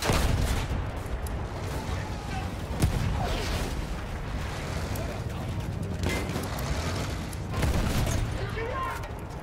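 Battlefield 1 battle sounds: dense bursts of gunfire and booming artillery rumble on continuously, loud and layered, with someone talking over the fighting.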